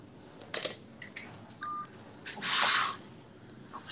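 Mobile phone keypad tones sound in short separate beeps while someone dials out during a live stream. A louder burst of hiss and a click follow near the end.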